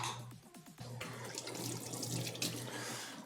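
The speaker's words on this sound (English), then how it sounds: "Let's give our hands another quick little rinse." Tap water runs into a sink as hands are rinsed during home cookie decorating, a steady splashing stream after a few brief drips and clinks, close and alone.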